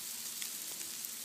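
Small hail pellets and snow hit the ground in Virginia, heard as a faint, even crackling hiss with a few light ticks and no voices.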